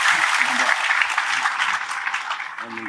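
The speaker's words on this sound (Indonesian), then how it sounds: "Ya tepuk tangan semua kita iringi beliau." Dense, steady audience applause fills the hall at a talk by Cak Nun, holding loud and even before easing slightly, with a voice coming in over the final moments.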